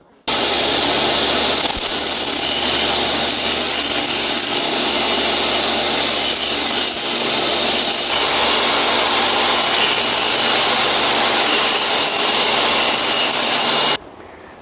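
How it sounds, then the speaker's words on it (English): A table saw cutting wood trim for the top of a custom gift box, one steady loud whine held for about fourteen seconds and then cutting off sharply. "We're going to cut it on a table saw."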